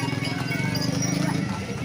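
Horse hooves clip-clop on pavement at an ondel-ondel Betawi parade, a quick steady rhythm close by with crowd murmur and talk over it throughout.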